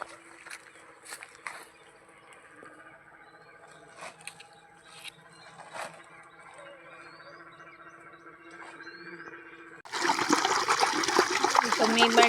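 Irrigation water is let into a farm field plot; after a quiet stretch with faint background sounds and some talking, loud rushing water bursts in suddenly and keeps gushing.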